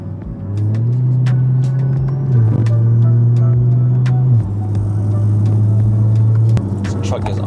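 A BMW G-chassis car brakes and downshifts through paddle-shifter gears, its engine note stepping between steady drones with distinct shift changes, close and loud.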